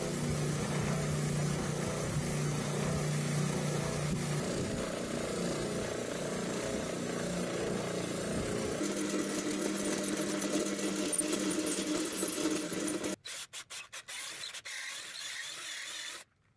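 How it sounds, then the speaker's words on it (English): A spindle sander shaves the edge of a guitar body built from layered sheets of paper, a steady loud mechanical whir and grinding that changes tone partway through, then spins down near the end. "I can use the spindle sander to shave away this edge and get that all cleaned up."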